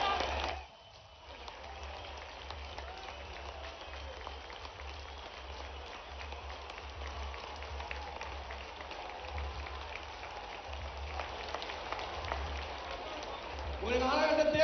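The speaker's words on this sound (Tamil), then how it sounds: "எழுந்து நின்று ஒரு நிமிடம் கரகோஷத்துடன் கை தட்டுவோம்" Crowd applause at Prime Minister Modi's public rally in Puducherry, a steady dense clapping that continues for most of the stretch after a brief dip near the start, heard at a distance under a murmur of crowd noise.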